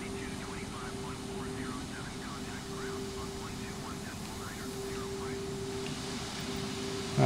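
Engine drone of an airliner landing in Microsoft Flight Simulator, a Thomas Cook A320neo arriving at Mallorca, a steady whining hum with a sustained tonal note under repeated rising chirps, held at an even level throughout.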